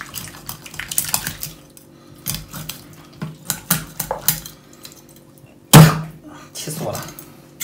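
A fish head chopped on a board with a cleaver, a few sharp knocks and scraping handling noises, ending with one heavy thud, with a voice talking in between.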